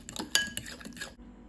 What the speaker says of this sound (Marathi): आनी बरे भाशेन मिक्स करया